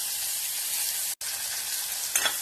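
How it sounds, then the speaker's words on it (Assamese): Fish fries in oil in a wok, giving a steady, loud, close hiss and sizzle that drops out for an instant and then returns, with a brief stirring scrape near the end. "পটলখিনি ভাজি মাজতে মাছখিনি ভাজি লওঁ"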